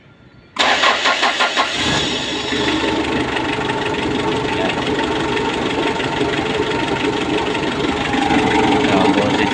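A brief crank, then the diesel engine of a Mitsubishi L300 van catches and settles into a loud, rough, knocking idle close by.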